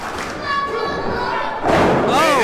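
A wrestler slams onto the ring mat after a hip toss during a wrestling match, a heavy thud amid a noisy crowd and commentary talk.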